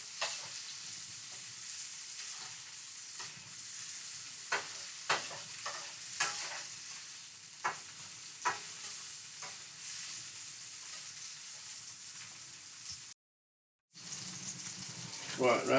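Escovich snapper cooking, a quiet steady sizzle in the pan with regular scrapes and taps of stirring, close by, briefly cut to silence near the end, while a person talks softly at times.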